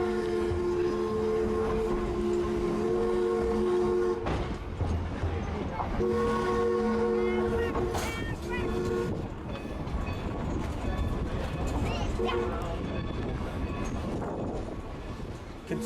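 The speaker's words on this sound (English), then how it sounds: "As the train backs its way through the yard" A train reversing through a rail yard on the Nevada Northern Railway rumbles and clanks slowly along the rails, with wheel squeal and a sustained horn-like tone, steady and fairly close throughout.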